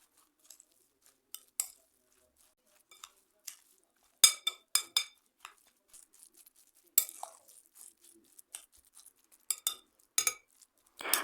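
A spoon stirs oil, black pepper, chili flakes and salt in a bowl, producing sparse, close clinks and scrapes against the dish with quiet gaps between.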